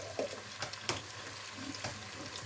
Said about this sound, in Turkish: Salçamı 1-2 dakika kavuruyorum